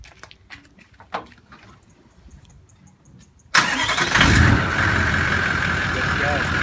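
A V8 Land Cruiser 4.5-litre diesel engine turns over, catches and settles into a loud, rumbling idle close by. Faint clicks and handling noises come before it.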